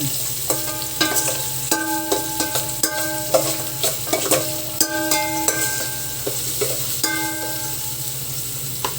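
Ginger and garlic sautéing in a pan for chicken tinola give a steady sizzle with stirring clatter, while sustained tonal ringing sounds come and go over the frying.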